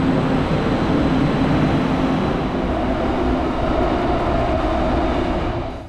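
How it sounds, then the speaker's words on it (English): An elevated metro train in San Juan, Puerto Rico runs toward its terminus with a loud, continuous rumble and rolling roar close by, steady throughout before cutting off at the end, with no voices. "Our train continues onward to the last station, Sagrado Corazon"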